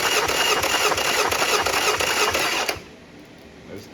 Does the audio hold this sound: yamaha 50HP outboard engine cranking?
yes